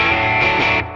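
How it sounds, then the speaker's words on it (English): Overdriven electric guitar through a modeled 1957 tweed 5E3 Deluxe amp, a single sustained distorted chord ringing for about a second before being cut off. "Let's hear it with the overdrive here."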